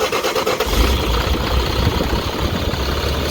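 A Caterpillar diesel engine with a suspected blown head gasket runs with a dense, loud, rough clatter and rumble that stays steady throughout, as if just started and settling into an idle.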